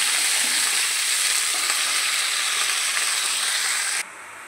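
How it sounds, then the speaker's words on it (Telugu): Spinach sizzles in a hot pan as it is stirred in, a loud, steady frying hiss with no talk that drops abruptly to a quieter simmer near the end. "మనకు ముందుగా రెడీ చేసుకుని ఉంచుకున్న పాలకూరని ఇందులో వేసేద్దాం"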